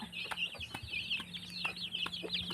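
Chickens cluck and chirp busily while they are fed on a hillside farm, a steady chatter of many birds at moderate distance with no talk.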